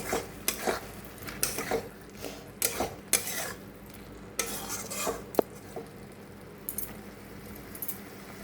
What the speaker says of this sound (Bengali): অল্প জল দিয়ে আলু দিয়ে ভালো করে মশলাটাকে আমি আরেকটু কষিয়ে নেব